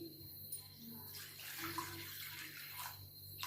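Water rushes steadily from a tap into a glass in a home kitchen, a continuous splashing pour lasting a few seconds at close range.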